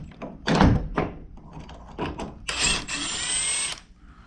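A power drill bores into a piece of wood in a short burst after several knocks and thunks of handling, close and fairly loud, with no talk.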